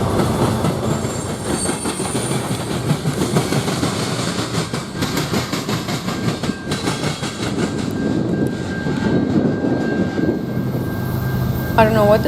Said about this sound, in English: Here is a northbound Canadian National manifest train going through Griffith, Indiana.